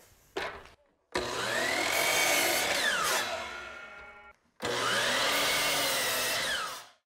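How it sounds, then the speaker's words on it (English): Miter saw crosscutting boards at a miter station in a woodworking shop: two loud whining cuts, each motor spinning up, biting through the wood for a couple of seconds and winding down, with a short pause between them. "Cross cut the boards here at the miter station."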